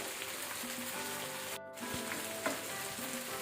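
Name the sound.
chicken frying on high flame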